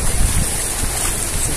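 Sea waves at a crowded beach at São Sebastião, a loud steady wash of surf and wind noise filling the moment without distinct breaks, no voices.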